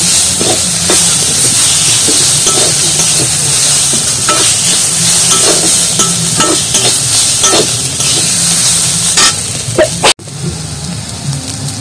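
Fried potatoes are stirred into turmeric flowers in a hot pan, a loud steady sizzle broken by repeated scraping clicks of the spatula, ending with a sharp knock.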